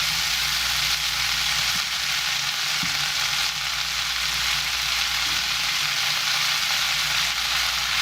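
Crown daisy stir-fried with pork belly in red bean curd sauce over medium-high heat, a dense continuous sizzle with occasional soft knocks of stirring, close and steady with no talk.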